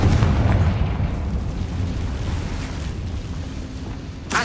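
A Confringo fire spell explodes in the Hogwarts Legacy video game, a loud, dense burst of rumbling blast noise that fades gradually, with a sharper crackle near the end and no speech.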